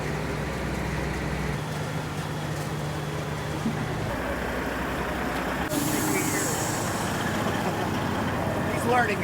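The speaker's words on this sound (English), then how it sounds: "He's about to take out the front end of that truck" Truck with a Cummins motor backing up in a shop yard, hissing air brakes and a steady diesel rumble, with a sharp burst of brake air release partway through, fairly loud and close.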